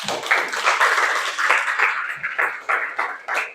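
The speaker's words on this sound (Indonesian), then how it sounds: "terima kasih kelompok 3 dan berikan aplaus buat kelompok 3" Classroom of students applauding a group, irregular clapping spread across the room throughout, loud and fairly close, with short bursts and small gaps.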